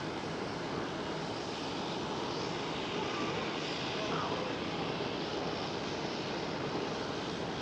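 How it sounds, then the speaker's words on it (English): An EasyJet A320neo's engines at Schiphol runway give a steady, broad roar that holds evenly across the whole stretch, with no breaks or rises. "There's EasyJet A320neo"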